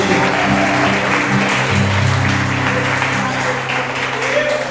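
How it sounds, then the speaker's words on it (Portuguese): A church congregation claps along during a Thursday evening service, a steady dense wash of applause mixed with music and voices throughout. "Celebra o Senhor com as palmas nessa noite."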